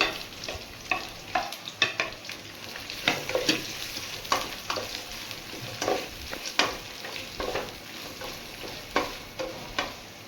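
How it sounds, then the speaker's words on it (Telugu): Sliced onions fry in hot oil for mutton biryani, stirred repeatedly so a close, steady sizzle is broken by regular scraping and clattering strokes of the spoon against the pan, with no voices. "బ్రౌన్ వచ్చే వరకు వేయించుకోవాలి ఎర్రగడ్డలు"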